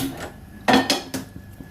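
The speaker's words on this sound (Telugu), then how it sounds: "ఇప్పుడైతే నేను గిన్నెలో తీసేసుకుంటున్నాను" Bombay chutney, a gram flour chutney, is scooped from a pot into a bowl: a few sharp metallic clinks and scrapes of a spoon against the vessels, close and distinct, with no talk.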